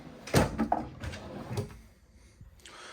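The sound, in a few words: RV kitchen drawers opening and closing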